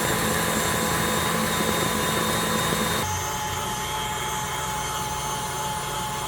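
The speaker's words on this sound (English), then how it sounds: "You can hear my mixer struggling a little bit." An electric mixer strains as it beats thickening divinity candy, a steady loud whirring drone that drops in pitch and load partway through, with no voices.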